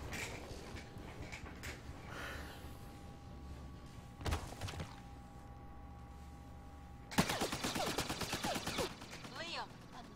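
Gunfire in Mass Effect Andromeda, a few isolated shots early on and then a dense, loud burst of rapid fire near the end, with game sounds and talk around it.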